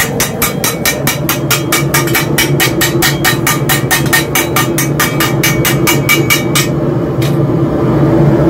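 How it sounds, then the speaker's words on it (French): A small ball-peen hammer strikes armor metal from the inside while an armor beater smooths the piece: a fast, steady run of sharp, loud metallic blows, then a brief pause and one last strike. "Un marteau plus petit pour la régularisation."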